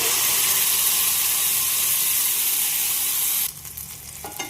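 Ground tomato is added to a hot frying pan with spices, giving a loud, steady close sizzle that cuts off sharply near the end, leaving faint stirring sounds.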